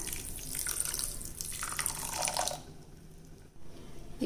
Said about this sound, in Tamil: இப்போ கொஞ்சமாக தண்ணி விட்டுக்கலாங்க.